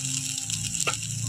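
Ginger sizzles in hot oil in a pan, a continuous bright frying hiss with a brief stir or clatter partway through.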